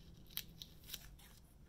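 Large scissors snip through a tulip stem up close, giving two or three crisp, quiet clicks spaced a fraction of a second apart over faint room noise, with no voices.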